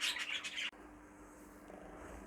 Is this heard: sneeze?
no